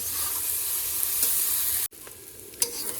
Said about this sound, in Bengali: পেঁয়াজ লঙ্কাটা একটু ভালো করে ভাজা ভাজা করে নিয়ে তারপরে আমি ডিম দুটো হালকা করে ভেজে নেব